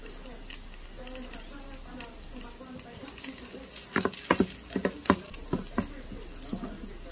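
Cooked pasta noodles with dried shrimp being stirred and mixed in a pan, producing soft scraping and a cluster of sharp utensil clicks and taps in the middle, with faint sizzling underneath and a voice speaking.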